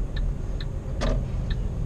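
A truck's turn-signal indicator ticks during a lane change, four crisp, evenly spaced clicks about half a second apart over the low hum of the cab, with a brief louder knock in the middle.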